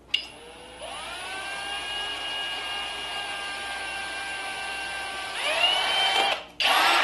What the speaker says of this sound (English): we're going to drill another hole for the rope